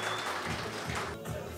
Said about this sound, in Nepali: कृपया ताली बजाइदिनुहोस्।